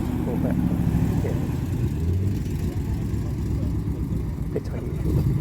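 Chevrolet Corvette engine rumbling as it drives past at a classic car gathering, a low, steady engine drone with mild revving, heard alongside general background noise.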